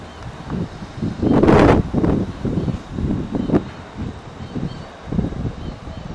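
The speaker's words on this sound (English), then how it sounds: "A little bit breezy." Gusts of wind during Hurricane Earl buffet the microphone in uneven bursts, with a stronger rush near the start and lighter rustling afterward.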